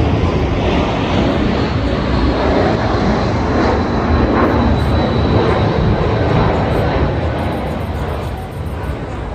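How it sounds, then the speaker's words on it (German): A fixed-wing airplane engine roars steadily and loudly overhead outdoors during a walk, a broad continuous rumble filling the whole stretch and easing slightly near the end. "So, ist ein Flugzeug."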